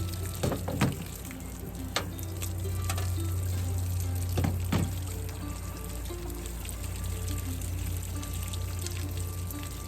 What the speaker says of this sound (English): put something on here to divert the water so it doesn't run right down your rig like this